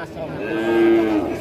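A young Pegon bull calf, about six months old, lets out a single close, drawn-out moo lasting over a second at a livestock market.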